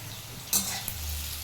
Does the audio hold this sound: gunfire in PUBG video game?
no